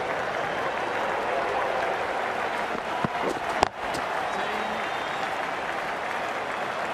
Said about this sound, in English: The bowler's going to love running in with the whole crowd cheering.